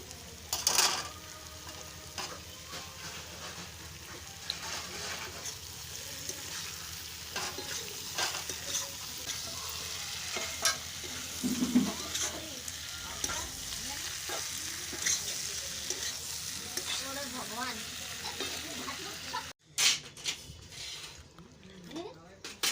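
Potato curry (aloo dum) with kasuri methi sizzling and frying in a pan while a spoon stirs and scrapes through it, steady and close, with talk over part of the cooking.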